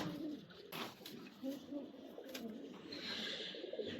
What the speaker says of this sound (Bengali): এটা হচ্ছে একটা নর কবুতর